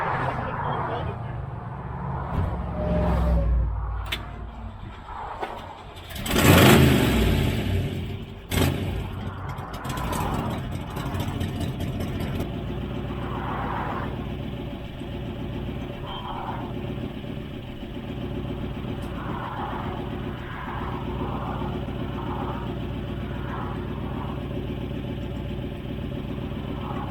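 A vintage Ford Mustang engine cranks with the pedal floored, then a loud burst as it catches and revs before settling into a steady idle, with people talking nearby.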